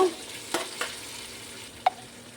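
Ginger garlic paste fries in oil for chicken biryani with a soft continuous sizzle, broken by a few sharp spoon scrapes and stirring knocks against the pan.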